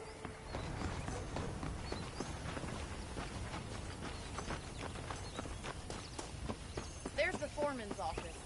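In the Red Dead Redemption video game, horse hooves clip-clop at a walking pace, soft and fairly close, while characters talk over them and a horse snorts near the end.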